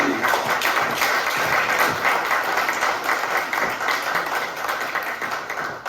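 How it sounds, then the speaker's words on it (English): Dense, steady applause from a conference audience as a guest speaker joins the stage at a product-scaling learning event, sustained and fairly close throughout. "Round of applause for Gigi."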